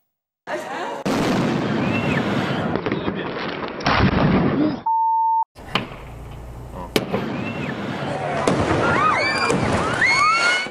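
Fireworks crackle and boom continuously with whistling rising streaks, loud and close, interrupted by a brief steady beep tone.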